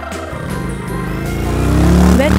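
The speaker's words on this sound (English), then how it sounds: "It is a motorcycle." A motorcycle engine rumbles and rises in pitch as it revs up, loud and close, over about two seconds.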